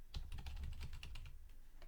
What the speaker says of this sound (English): I'm just typing something in there.